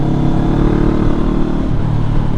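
A motorcycle engine braking in first gear on the Marilaque highway gives a loud, close, steady drone with the engine note easing slightly toward the end.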